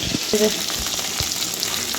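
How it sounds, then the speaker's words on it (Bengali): Continuous close sizzling of bhetki (barramundi) fish frying two pieces at a time in hot oil, with a few light scraping and stirring knocks mixed in. "এখানে এখনও ভেটকি মাছটা ভাজা চলছে"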